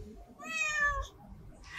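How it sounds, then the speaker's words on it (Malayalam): A single clear domestic cat meow, short and rising then falling, heard close and alone against a quiet background. "ക്യാറ്റ് എങ്ങനെയാ സൗണ്ട് ഉണ്ടാക്കുക, മ്യാവൂ എന്നാണ് സൗണ്ട് ഉണ്ടാക്കുക അല്ലേ."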